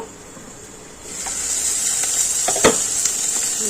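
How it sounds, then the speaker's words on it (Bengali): Moringa leaves fry in a pan, a soft hiss that swells into a steady, bright sizzle once the lid comes off, with a few light clicks near the end and no talking. "দেখুন শাকটা ভাজা ভাজা হয়ে গেছে"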